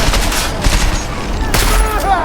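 Bursts of automatic gunfire from a firefight in Deus Ex: Mankind Divided, loud and close, with sharp cracks and rattling volleys over a busy mix of game sounds and brief shouting.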